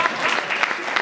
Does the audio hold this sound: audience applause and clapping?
yes